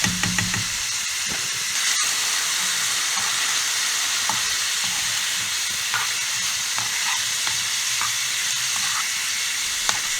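An Egyptian dish frying in a kadai with chili and salt, giving a steady loud sizzle and hiss with occasional stirring clinks and no talk.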